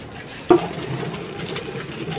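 Caps are rinsed in water: a brief splash, then a steady wash of running water, alone.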